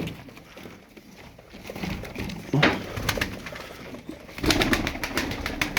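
Pigeons cooing nearby with soft fluttering and wing flaps, the cooing rising and falling in bursts against a quiet background.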